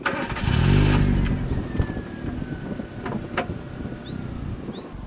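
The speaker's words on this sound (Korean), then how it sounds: "설명서에 나와 있는 대로 2분 동안 공회전을 해보겠습니다" A Chevrolet Spark small car engine idles steadily with a low rumble, wind buffeting the microphone and a few light clicks and knocks over the running motor.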